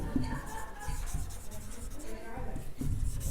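Chalk or marker strokes scrape across a board during a maths lesson on vector projection, with continuous rubbing lines running under a teacher's voice.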